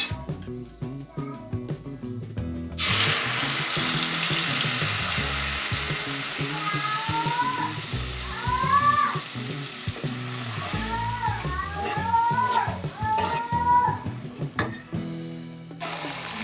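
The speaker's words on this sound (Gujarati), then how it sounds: "આપણે હિંગ નાખી વઘાર કરશું" Hot oil tempered with asafoetida (hing) for a Gujarati drumstick curry with peanut powder, bursting into a loud, steady sizzle that runs on for many seconds, with faint chirpy squeaks over the frying.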